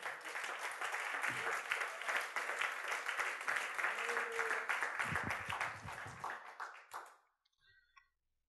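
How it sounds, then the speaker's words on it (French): A church congregation acclaims and applauds during a French-language sermon, a dense sustained wave of clapping with scattered cheers, fairly loud, ending abruptly and fading into quiet. "Est-ce que quelqu'un peut acclamer le roi des rois?"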